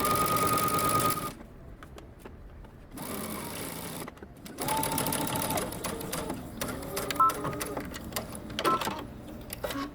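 A sewing machine stitching a knit top seam with a long basting stitch, loud steady mechanical whirring in bursts separated by short pauses, close and without talk.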